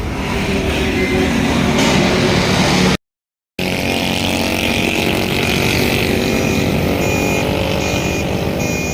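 A vehicle fitted with air suspension on a road test, with a loud, steady engine drone and road roar running throughout, broken once by a short silent gap.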